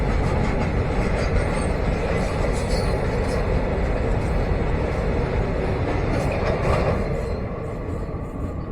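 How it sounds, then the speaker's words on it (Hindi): A goods train rumbles past on the line close by, heard from aboard a passenger express, a loud continuous roar of wagons and wheels with faint squeals, easing slightly toward the end. "एक मालगाड़ी हमारे पास से गुजर रही है।"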